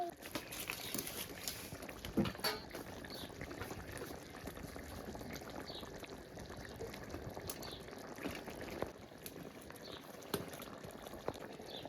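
Fish pieces are added to a simmering curry of cauliflower, peas and onion greens, with a soft steady bubbling and faint liquid patter, quiet throughout.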